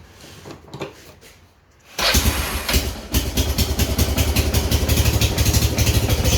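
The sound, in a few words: 2002 Kawasaki Prairie ATV engine running with choke on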